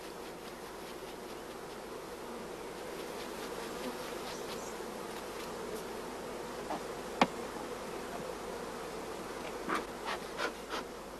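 Honeybees buzz in a steady, even drone around hive frames, with a few louder passes and light knocks near the end and no voices.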